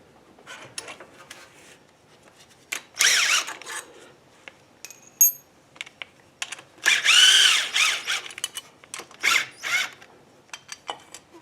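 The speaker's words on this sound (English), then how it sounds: "I am going to use my 90 grinder with a, I don't know, it's a 40 grit disc" A 90-degree grinder with a 40 grit disc grinds metal on a vintage Brooklyn Pony build, heard in short bursts between pauses, some louder and sustained, up close with no talking.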